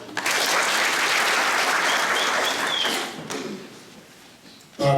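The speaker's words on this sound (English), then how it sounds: "So we can clap for ourselves." Audience at a graduation ceremony clapping, a loud dense burst of applause that holds for about three seconds, then thins and fades toward quiet.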